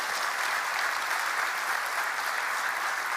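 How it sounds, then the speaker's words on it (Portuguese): A church congregation applauds during a Portuguese-language evangelical service, a steady, dense roar of clapping from many hands at an even level throughout, with no voices standing out. "Você pode aplaudir o Senhor?"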